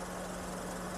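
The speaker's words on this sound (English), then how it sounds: "So being a 3-cylinder engine, you can see shaking a bit, not so smooth." Idling 1-liter three-cylinder engine of a 2024 Suzuki Celerio, a steady low droning hum with slight vibration, heard close and continuous.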